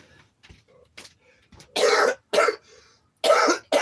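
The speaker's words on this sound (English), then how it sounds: "I got to step off screen and blow my nose." Three forceful, noisy nose blows, close and loud, separated by brief pauses after a few quieter sniffs and rustles.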